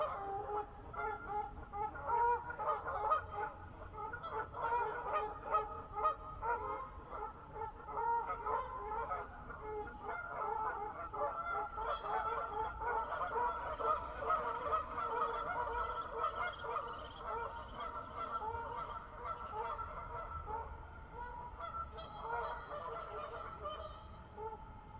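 A flock of geese honks repeatedly outdoors in nature, overlapping calls rising and falling continuously at moderate distance with no speech.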